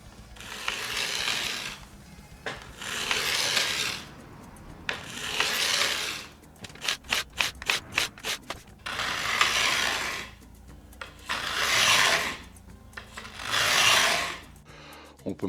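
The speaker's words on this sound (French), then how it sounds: "l'idée, c'est de vraiment laisser faire la lime, c'est-à-dire de ne pas forcer contre le manche" A file rubs along a guitar neck in long, even strokes, making repeated broad rasping passes close to the microphone, with a quick run of short scraping or clicking strokes in the middle.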